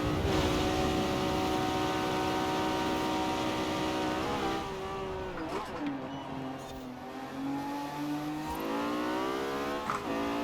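A Lamborghini Diablo GTR race car driven in Forza Horizon 4 holds a loud, steady high-revving engine drone, pitch dipping through gear changes and corners, then climbing again as it accelerates.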